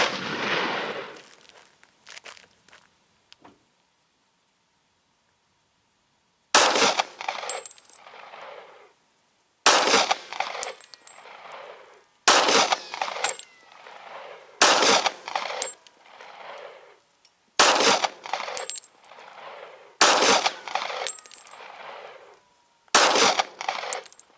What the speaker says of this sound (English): This is going to be the first 10 rounds out of the gun.